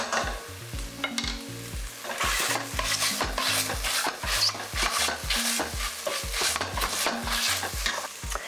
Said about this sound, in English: we're going to get a masher and we're just going to break these up a little bit